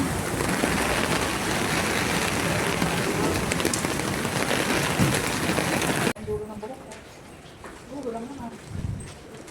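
Heavy rain pours and pounds loudly on a surface for several seconds near a Hong Kong pier, then cuts off abruptly, leaving quieter ambience with voices.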